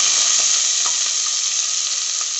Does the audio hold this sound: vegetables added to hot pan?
yes